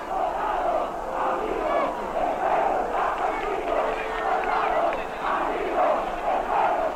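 A large political crowd applauds Allende and shouts in rhythmic waves of chanting and cheering, surging and easing repeatedly at a steady, moderate loudness.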